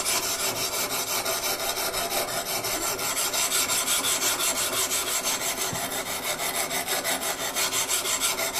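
A hand surface planer shapes a bevel on a timber-frame beam in repeated rasping strokes, close and steady, each pass scraping across the wood with no voices.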